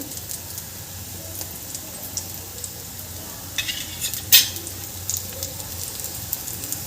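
Ragda patties shallow fry in a pan, a soft steady sizzle at moderate level with a few light clinks and scrapes from a spatula, one sharper clatter midway.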